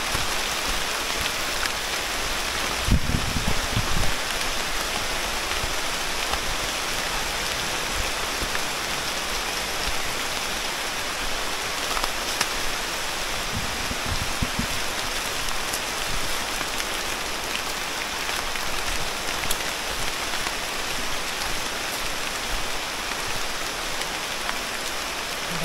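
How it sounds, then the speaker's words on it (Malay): Heavy rain pours continuously onto a Malaysian jungle hiking trail near Damai Waterfall, a loud, even, enveloping roar of drops with only a couple of brief low thumps breaking through. "Hujan makin lebat je."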